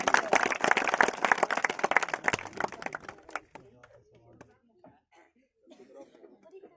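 Burst of enthusiastic audience clapping welcoming a speaker at a cricket tournament prize ceremony in India, loud for about three seconds before thinning to scattered claps, coughs and murmuring voices.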